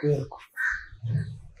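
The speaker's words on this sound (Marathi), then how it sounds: "थोडी कावळ्यांचा आवाज आहे" Crows caw a few times nearby, their harsh calls mixed with low voices in the background.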